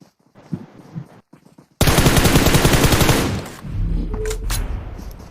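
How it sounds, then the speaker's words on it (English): Automatic gunfire bursts loud and close in a PUBG battle-royale match, a dense rattling volley erupting after quiet patches and continuing in ragged overlapping shots with some distant pops. "There is some exchange of gunfire that's happening."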